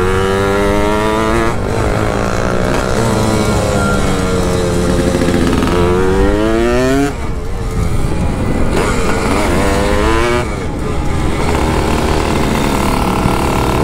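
A Yamaha RD 135 motorcycle engine revs hard and loud up close, its pitch climbing and falling through repeated throttle sweeps with brief dips between runs.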